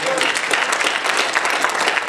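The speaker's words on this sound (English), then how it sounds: "give God a clap of praise for me" A church congregation claps in praise during a Sunday service, dense steady applause filling the room for a couple of seconds, with scattered voices mixed in.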